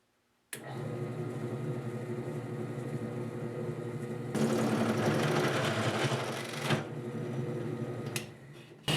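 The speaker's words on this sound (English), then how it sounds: "I'm going to try a hole saw without the bit and see if this will do any better than that forcer bit." A hole saw, used without its pilot bit, drills into wood with a steady close motor whine that grows rougher and louder midway as the teeth bite, then stops with a few clunks.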